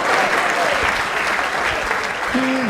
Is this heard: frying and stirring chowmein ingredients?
no